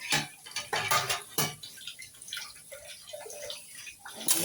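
Dishes being washed, with quick clattering bursts of utensils knocking together and splashing water, then quieter trickling and drips.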